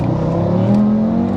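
A fully built 770 bhp Audi RS3 engine revs at roughly half throttle, a loud, close, continuous drone that climbs steadily in pitch, heard alone.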